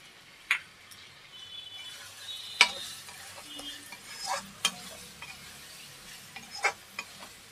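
Chopped green chillies tipped into a frying cauliflower and potato masala, giving a quiet, sparse sizzle with a few sharp ticks and clinks of stirring spaced through the clip, no voices.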